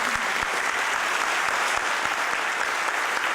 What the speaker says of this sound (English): Can we have a great round of applause for all these eminent personalities?